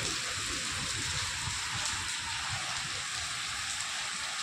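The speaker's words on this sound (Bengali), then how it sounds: "বৃষ্টি হচ্ছে, পুরো অন্ধকার হয়ে রয়েছে।" Steady rain falls continuously at night in the dark, a dense even hiss of drops on surfaces with no voices, holding at a constant level throughout.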